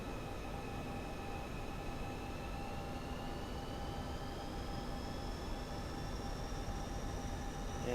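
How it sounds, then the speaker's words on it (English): Steady roaring jet noise from a MiG-21 running on afterburner in a flight simulator video game, a constant broadband rush with a faint whine gradually rising in pitch, unbroken and alone. "afterburner on."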